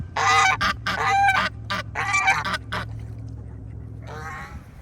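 Farm ducks honking and quacking in cold weather, several loud close calls in bursts with short gaps, then a softer run of calls at the end.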